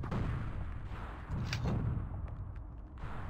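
Heavy booming weapon blasts from a laser cannon in Warhammer 40k: Firewarrior, a few loud low-heavy shots with a brief crackling burst near the middle, set against constant battle rumble.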